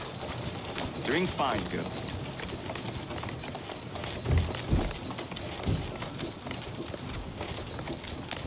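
Steady clip-clop of a horse's trotting hooves in Assassin's Creed Syndicate runs underneath a calm voice speaking, with a few heavier thuds standing out midway.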